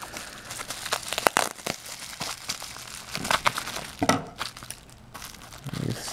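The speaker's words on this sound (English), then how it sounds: "I might have to use the scissors for this" Plastic packaging and bubble wrap around a collectible pin and guitar pick, cut open with scissors, close crinkling and snipping in irregular bursts with no talking.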